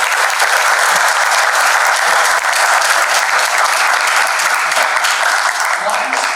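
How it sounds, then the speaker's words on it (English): Audience applause fills the room after a talk about Kashmir's lost temples, a dense, steady clapping from a crowd that holds at full loudness for several seconds without letting up. "Can you have a round of applause for her?"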